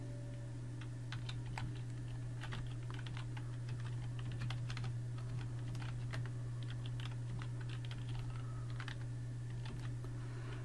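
Steady, fast typing on a computer keyboard while entering JavaScript code, a continuous run of close, crisp key clicks over a low, constant hum, with no voices.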